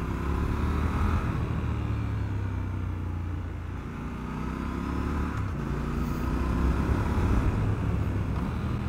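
A Triumph Scrambler 1200 XE motorcycle with a torquey 1200 cc twin pulls hard from low revs, its engine note rising steadily in a loud, continuous, close-up drone.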